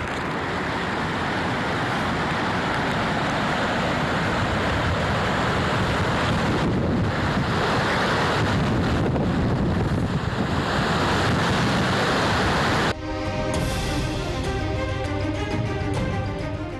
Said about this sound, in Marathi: पुलाचा भराव खचल्यानं ओढ्याचं पाणी महामार्गावरून वाहू लागलं